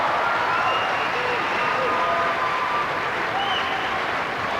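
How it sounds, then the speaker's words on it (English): A crowd at a 1991 international indoor hockey tournament applauds a goal with dense, continuous clapping and cheering. The applause fills the hall at a steady level for several seconds. "The crowd applauding the skill of the Germans."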